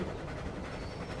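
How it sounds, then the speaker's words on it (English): A brief stretch of the Battlefield 1 armored train in motion: a dense, continuous low rumble of rolling wagons, close and steady, with no talking. "I'm driving the train!"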